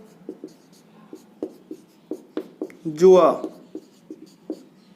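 A word being written on a board during a Class 11 biology lesson: a run of short, squeaky strokes at a steady pace, with a brief burst of voice in the middle.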